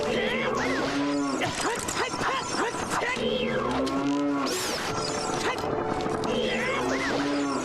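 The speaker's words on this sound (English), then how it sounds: "The cow you are hearing is Sound of Navi. These are randomized sound effects." Cow moos from the Ocarina of Time video game, used in place of the fairy companion's sound effect, repeat several times in drawn-out, bending calls over game music and other effects.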